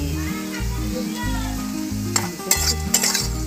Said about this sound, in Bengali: অল্প তেলে আলু ভাজা